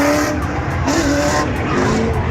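A drifting race car revs under strain while its tires squeal in several sustained, wavering streaks, loud and close throughout, with no voices.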